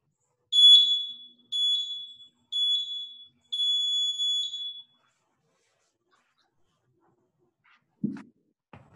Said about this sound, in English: Disregard the beeps here.